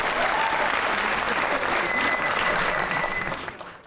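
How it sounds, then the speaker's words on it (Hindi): A studio audience of a comedy talk show claps steadily for a few seconds, the applause thinning and fading out at the end. "वो तालियां बजाएं।"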